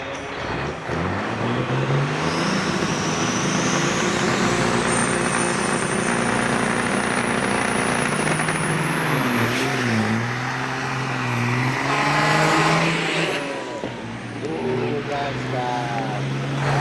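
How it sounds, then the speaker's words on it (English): Western Star big rig trucks race at Onaway Speedway in the Great Lakes Big Rig Challenge, diesel engines roaring and revving with rising and falling pitch as they pass, loud and continuous, with an announcer's voice mixed in. "Hunter Suiki in the 113 Western Star, the Corrigan Oil Lane. Let's get ready for action."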